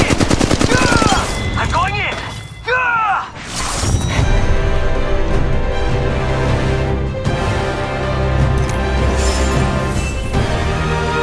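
Dense gunfire from Apex Legends Mobile, with rapid automatic bursts and single shots, metallic reload clicks and shattering impacts, loud and close, continuing almost without a break.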